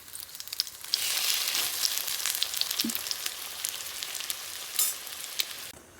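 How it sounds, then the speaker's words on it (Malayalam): Food fries in hot oil with a continuous close sizzle and crackling pops, plus a brief stir or flip partway through, before the hiss cuts off at the end. "ഇതിലേക്ക് ഇട്ടെടുത്ത് പൊരിച്ചെടുക്കാം കേട്ടോ"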